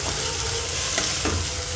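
Green chillies sizzle as they are stir-fried in a pan, a steady close frying hiss broken by a couple of soft scraping stirs, with no voices.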